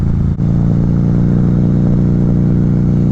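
A 2009 Harley-Davidson V-Rod engine drones steadily while riding, a loud, close, low rumbling hum with a brief dip near the start, then an even sustained tone with no talk.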